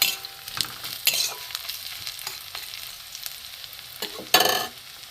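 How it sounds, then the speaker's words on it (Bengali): Spices sizzle and fry in hot oil in a pan for egg curry, a steady crackling hiss broken by louder scraping bursts as they are stirred, close up with no talk. "ফোড়নটা ভালো করে ভাজা হোক, তারপরে মশলা দেবো।"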